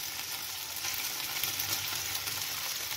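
Sole turbans and galettes fry in a pan with a steady, even sizzle that holds at a moderate level throughout, with no voices.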